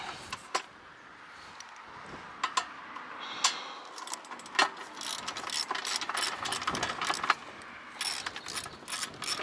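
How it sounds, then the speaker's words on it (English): Ratchet wrench with an 8mm socket turning fasteners to open the housing of an RV air conditioner, giving a run of quick, sharp mechanical clicks in irregular bursts, close up over a faint background hum. "This is an 8mm socket."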